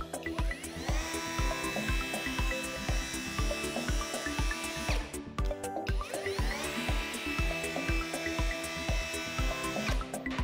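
Parkside Performance PPWSA 12 small angle grinder spinning freely without load: a steady high motor whine with harmonic tones, cut off briefly mid-way and then spun back up, loud and close, with no talking.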